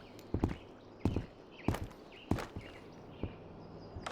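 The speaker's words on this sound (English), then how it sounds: "Alright, I am hearing footsteps now." Footsteps in the video game Road to Vostok thud at a steady walking pace, about one step every half second to second, fairly close and clear over a low steady ambient hum.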